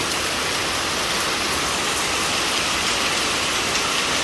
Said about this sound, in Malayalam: വൈകുന്നേരം ആയപ്പോൾ നല്ല മഴ വീണ്ടും